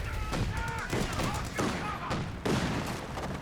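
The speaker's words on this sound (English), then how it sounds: "Listen to the flak cannon there." A flak cannon fires during a Company of Heroes 2 battle, a run of rapid, thudding bursts in irregular clusters, mixed with other battle noise and voices.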